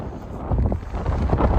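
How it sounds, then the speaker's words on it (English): Sharp gusts of wind buffet the microphone outdoors on a cold snowy day in the city, a loud rumbling roar that rises and falls, with no talking. "I didn't know the wind was this sharp today"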